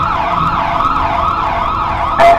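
A loud wailing siren from a toy or animated police car, sweeping up and down steadily, ending in a brief sharp burst.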